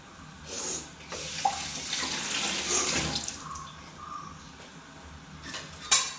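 Food is washed under a running kitchen tap in a village home, water splashing and gurgling steadily into the sink with a few light clatters, close and alone.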